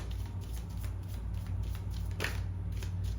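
Tarot cards being shuffled, a soft continuous riffling and sliding with faint repeated flutters over steady low background hum, close and fairly quiet, with no talking.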